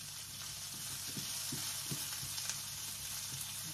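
Chayote fries in a pan over medium heat, a steady soft sizzle with a low hum beneath and occasional utensil taps and scrapes, close and fairly quiet, no talking.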